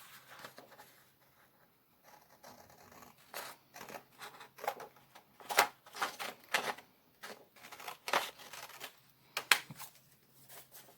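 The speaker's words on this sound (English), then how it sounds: "And I'm going to cut right about here across." Scissors cut paper for a composition notebook journal in a quiet room, a run of close, crisp snips and rustles in irregular bursts.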